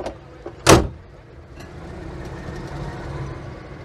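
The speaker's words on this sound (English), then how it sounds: "I should probably close the door now." A TWC Invacar door slams shut with a single loud thud at a show parade, followed by a low steady hum of idling engine and outdoor background noise.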